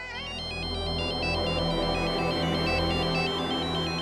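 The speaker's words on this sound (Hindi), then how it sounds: "डॉली जी के फोन आ" A mobile phone ringtone plays a bright, repeating electronic melody indoors, steady and clear for several seconds with no voices over it.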